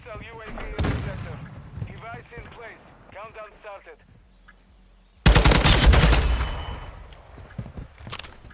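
Bursts of automatic gunfire in a video game match, one short volley early and a loud sustained burst later, with voices talking between the shots.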